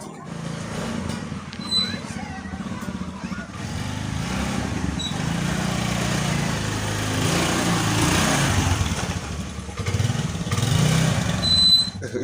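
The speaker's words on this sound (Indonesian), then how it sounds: "Iya motor saha ya." A motorcycle engine runs nearby with a steady, buzzing drone throughout a Sundanese comedy scene, rising slightly toward the end, under and between people talking.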